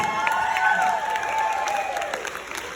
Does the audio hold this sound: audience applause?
yes